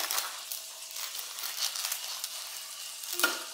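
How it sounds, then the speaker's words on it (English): A knife cutting open a soft, buttery loaf of homemade bread, with a close, crackly crunch of crust and a few brief rustling strokes, fairly quiet throughout. "let's cut open this one."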